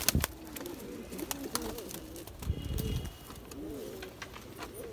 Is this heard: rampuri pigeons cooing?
yes